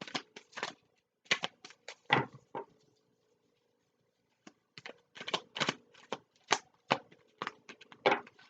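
Oracle cards are shuffled by hand in close, crisp riffling bursts, a pause of near silence, then another run of shuffling and soft card slaps as cards are pulled.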